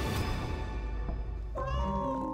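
A cat gives one clear, fairly close meow near the end, rising out of a steady noisy background with no talking.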